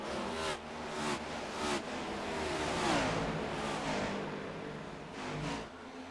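Stock car engines roar continuously in a racing video game at Charlotte, a loud, sustained drone with rising and falling revs and brief surges as cars pass.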